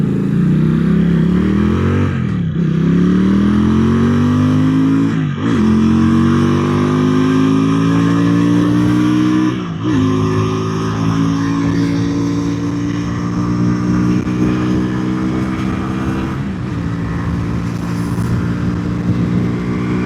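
A QJMotor SRV250 motorcycle engine hums steadily while riding, the pitch climbing through the gears with brief dips at each shift, loud and close throughout with wind noise.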